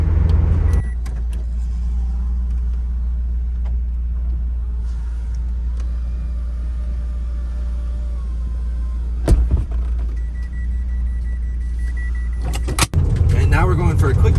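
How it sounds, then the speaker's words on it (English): Inside a Mazda Miata NC with the top up, driving at about 25 mph on a snowy dirt road, cabin noise forms a steady, loud low rumble with tire roar and occasional bumps. "As you can probably tell, it's still noisy. I'm only doing 25. I am on dirt roads"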